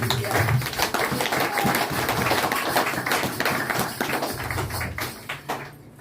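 A church congregation claps steadily and densely for several seconds during a Sunday service, a loud, continuous patter of applause that thins slightly toward the end.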